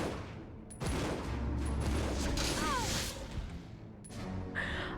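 Gunfire in a Resident Evil 0 boss fight comes as loud, broadband bursts with a sharp crack near the start and more shots later, mixed with game effects and a voice talking over them.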